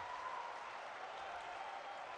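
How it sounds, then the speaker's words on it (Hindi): Large crowd applauding at a political rally in Betul, Madhya Pradesh, a steady, dense wash of clapping that stays even and distant-sounding throughout, faint in level, with no voices over it. "जोरदार तालियां बजाकर आप अभिनंदन करें"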